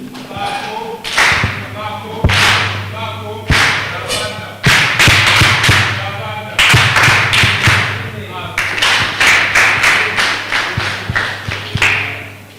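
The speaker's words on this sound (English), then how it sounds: "Can you clap for yourselves again?" Conference audience clapping in several bursts separated by short pauses, sharp close claps with a speaker's voice between rounds.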